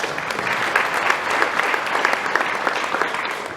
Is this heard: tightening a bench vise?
no